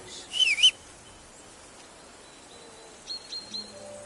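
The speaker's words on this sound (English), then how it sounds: "Your whistling is getting on my fucking nerves the whole way" A video game character whistles a short tune, a brief warbling phrase followed by a few thin, faint whistled notes later on, over quiet background ambience.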